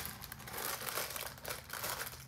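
A plastic clothing bag from a Shein order crinkles and rustles as it is cut open, with soft, close, continuous crackling at low volume.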